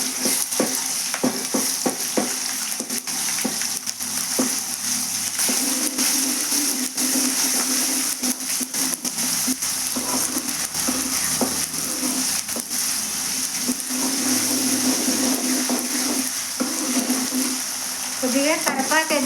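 Ginger paste fries in a pan with a dense, loud, continuous sizzle and crackle that holds steady, with faint stirring scrapes underneath.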